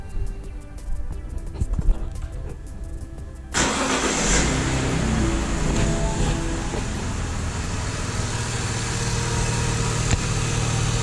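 A BMW E60 with a swapped engine cranks and fires up, then settles into a steady, smooth idle heard up close, after a quieter stretch of background noise.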